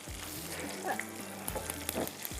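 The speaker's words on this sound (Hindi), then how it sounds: "इसको मैं साथ साथ में यहाँ पे फ्राई कर रही हूँ" Beef malai kabab frying in a pan makes a quiet, steady sizzle with a few faint clinks and stirring touches, and a voice is heard briefly.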